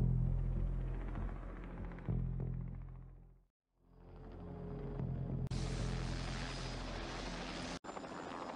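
A helicopter from the trailer for The Thing (1982), a loud low rumbling drone that fades out to near silence midway, then swells back in with a brighter, harsher roar.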